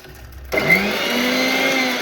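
A kitchen mixer grinder starts up abruptly and runs steadily, grinding raw green mango into powder with a loud, continuous whirring drone that holds for the rest of the moment.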